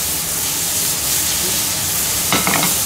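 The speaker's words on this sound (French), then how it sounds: "on va commencer à griller tous nos légumes" Vegetables seasoned with pepper frying in a pan, a steady close sizzle and hiss with a brief clatter of stirring near the end; no talking.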